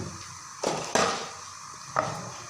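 A spoon clinks and scrapes against a dish while chili, black pepper, cumin and salt are mixed together, three sharp knocks separated by quiet pauses.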